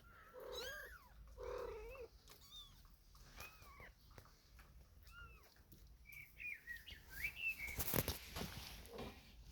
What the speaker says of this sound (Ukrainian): Кошенятка.